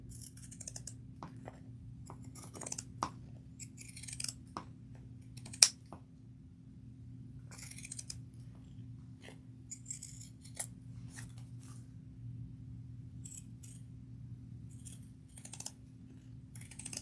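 Pinking shears cut through fabric for a crossbody bag, making faint, sparse snips and clicks at irregular intervals over a steady low room hum, with one sharper snip standing out.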